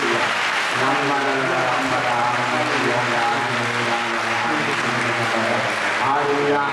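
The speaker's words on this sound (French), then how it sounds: "And give an applause to Jesus." A church congregation applauds during a prayer retreat in Bergerac, France. Sustained, dense clapping from a large crowd fills the room, with a voice carrying over it.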